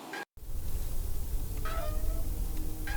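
A cat meows in the video game Deponia Doomsday: short, faint, tonal meows arrive twice over a constant backdrop of game ambience, with a brief silent gap at the start.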